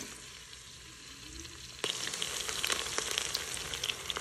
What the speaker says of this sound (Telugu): ఆనియన్స్ ట్రాన్స్పరెంట్గా అయిన తర్వాత క్యారెట్ వేసుకొని ఫ్రై చేసుకోవాలి.